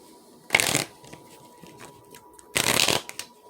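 Tarot cards shuffled in two distinct bursts of riffling, each about a third of a second long and separated by a quiet pause, close and fairly loud with a faint hum behind them.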